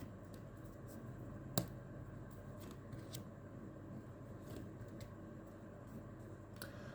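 Tarot cards are shuffled by hand in a quiet room: faint, soft riffling and flicking with one sharper snap, close but low in level, with no talking.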